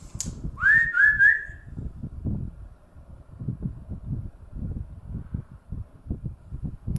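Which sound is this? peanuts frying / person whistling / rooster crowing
person whistling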